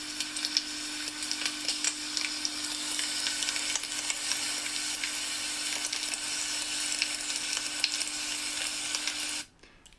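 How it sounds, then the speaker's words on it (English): Tofu sizzles and fries steadily in a pan, a dense crackling hiss with a faint hum beneath, continuing alone for about nine seconds before stopping abruptly. "That was the sound of tofu frying."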